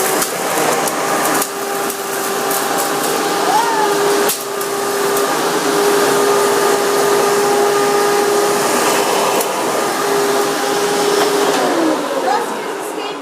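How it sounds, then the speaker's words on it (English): A Hoover bagless twin chamber vacuum cleaner runs loud and continuous with a steady whining drone and airy rush, holding close and unbroken throughout. "So let's start with the bagless twin chamber."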